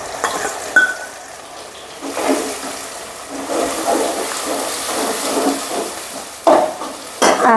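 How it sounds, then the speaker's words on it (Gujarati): Tomato, onion, chili, garlic and ginger dropped into hot oil for a village-style tempering, a steady close sizzle and bubbling with occasional stirring scrapes and louder spits. "વઘાર દઈ લઈએ હવે"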